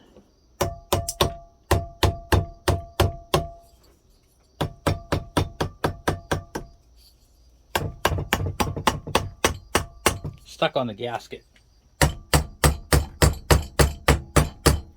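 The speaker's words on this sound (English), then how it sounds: "Let me see if I can't use my rubber mallet. Crack this thing loose." A rubber mallet strikes a Suzuki TC120 engine part stuck on its gasket, loosening it in quick bursts of sharp, close, evenly spaced taps separated by short pauses, with a brief spoken remark partway through.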